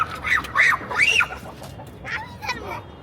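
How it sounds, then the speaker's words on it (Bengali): Chickens being let out of their coop give a few close, quick clucks and rising calls in the first second or so, then fainter scattered clucks follow. "তো আমি হচ্ছে এখন ফাইনালি আমার মুরগিগুলোকে ছেড়ে দিব।"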